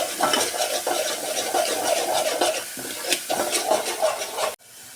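Chicken masala with chutney is stirred in oil in a metal pan. A spoon scrapes the pan in steady, busy strokes with a light sizzle underneath, close and fairly loud, and stops abruptly near the end.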